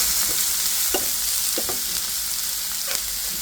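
Green chilies, onion, garlic and black cumin frying in a pan, a strong continuous sizzle with several soft scraping stirs of a utensil, close and without speech.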